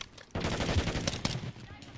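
Remote turret gunfire in Call of Duty Modern Warfare, Dark Aether zombies mode: a loud, dense burst of rapid automatic fire that starts abruptly and rattles continuously for over a second before easing off.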